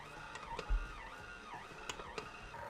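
A stand mixer works pizza dough at low volume, a steady faint motor whir with a slowly wavering pitch and occasional small knocks throughout.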